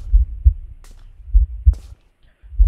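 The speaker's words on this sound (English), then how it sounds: "Oh, I can hear a heartbeat." A heartbeat effect in the horror video game Slender: 7th Street, deep low thumps in double-beat pairs repeating at a slow, steady rhythm, loud and close, with brief faint clicks between.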